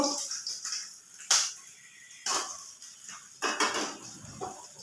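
Fried hilsa fish is lifted out of a wok with a metal utensil, giving several sharp clinks and scrapes against the pan at irregular intervals over a faint sizzle.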